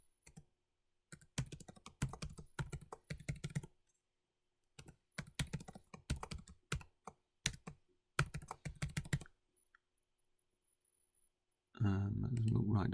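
Keys clatter on a computer keyboard as a username is typed into an Azure server setup form, in several quick bursts of close, crisp clicks, followed by a short louder rustle at the end.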